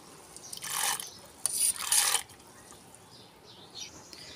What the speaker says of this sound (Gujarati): તો હવે આપણે આપણી આ દાળ આમાં ઉમેરી દઈએ.